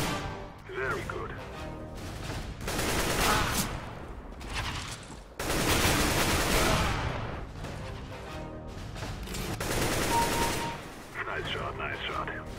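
Practice against bots in a first-person shooter brings bursts of close gunfire, rapid clusters of shots separated by short pauses, loud and punchy, with occasional mechanical clicks and a voice speaking between volleys.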